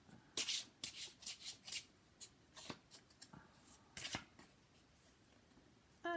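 Tarot cards are shuffled in short riffling bursts, several quick flurries up front, then sparser single flicks and slides, close and fairly quiet with no talking.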